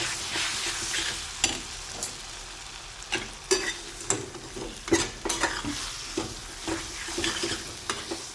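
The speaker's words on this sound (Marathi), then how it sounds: "चवीनुसार मीठ टाकून घ्यायचं आहे. आता हे चांगल्यापैकी परतून घ्यायचं आहे." Ridge gourd bharit sautéing with salt in a pan, a continuous close frying hiss with irregular spatula scrapes and taps against the metal.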